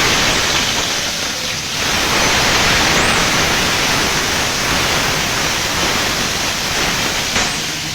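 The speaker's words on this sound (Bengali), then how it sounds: "এটা একটু ভালো করে ভেজে নেব" Onion and garlic paste frying in hot oil for a Bengali kaliya curry, a steady close broadband sizzle that runs continuously without a break, with no voices.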